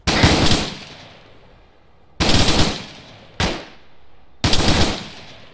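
Arma 3 machine gun fire comes in four separate loud bursts, each followed by a decaying echo across open terrain, with short pauses between them.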